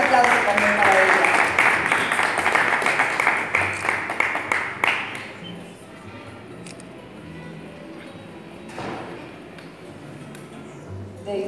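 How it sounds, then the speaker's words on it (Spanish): Audience applause for an award recipient at a press and culture recognition ceremony, a dense burst of clapping that swells loud for about five seconds and then thins to scattered claps and room murmur. "Un fuerte aplauso también para ella."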